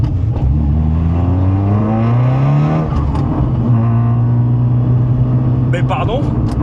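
A 490 hp Audi S1 engine revs and accelerates, its pitch climbing through rising gear pulls, loud and close, with a voice talking over it.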